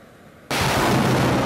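A multiple launch rocket system fires a rocket during gunnery: quiet hum, then a sudden loud roaring blast that rushes on steadily to the end.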